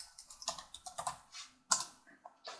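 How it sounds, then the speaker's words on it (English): Rapid, close keystrokes on a Lenovo ThinkPad T540p laptop keyboard as a command is entered, a quick irregular patter of light clicks with a brief pause before a final few taps, no voices. "at this point, we'll type list disk."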